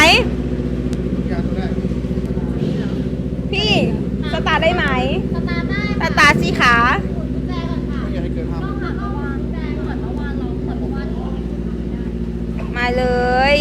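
A Kawasaki Ninja ZX-10R ABS sport bike with an aftermarket exhaust, at a big bike auction, runs loudly throughout with a steady engine drone and a few sharp rev bursts, while someone talks over it.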